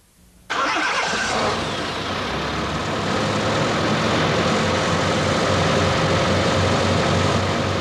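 An engine being turned over by its starter motor: after a brief quiet moment, a loud, steady whirring crank kicks in and continues unbroken with a rough mechanical rumble, close up and without voices.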